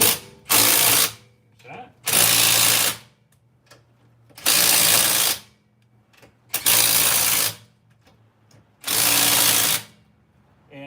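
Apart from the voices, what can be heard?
impact wrench tightening wheel lug nuts in a star pattern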